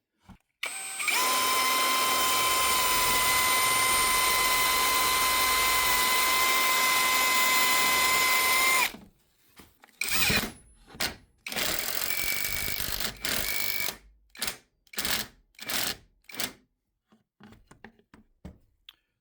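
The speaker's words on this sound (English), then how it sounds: "You need to pre-drill the hole with a 5/32 drill bit, and then after that your lag bolt takes a 7/16 socket." A power drill runs in one long continuous whine, then in a series of short trigger bursts as a lag bolt is driven in with a 7/16 socket while installing an attic ladder, close and loud.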